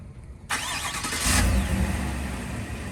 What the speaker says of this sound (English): I did get the active exhaust, so let's see how that sounds